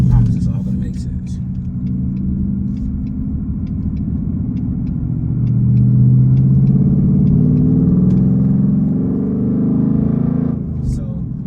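A manual-transmission car cruising in fifth gear gives a steady, close low engine drone with road rumble; it holds throughout, swelling slightly toward the middle before easing off.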